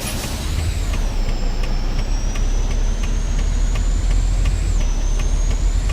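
A truck air brake hisses as a steady, loud whistling tone in a truck driving video game, held for several seconds over constant low engine rumble, with faint regular clicks.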